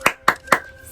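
Schoolchildren in a classroom clap in unison three times, evenly spaced sharp claps close by, with brief quiet between each.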